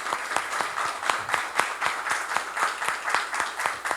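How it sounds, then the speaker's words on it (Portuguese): Guests in a viola music programme studio clap in a fairly even rhythm, each hand clap distinct and sharp, moderately near and steady for about four seconds with no talk over it. "Eu quero ouvir as palmas dos nossos convidados aqui"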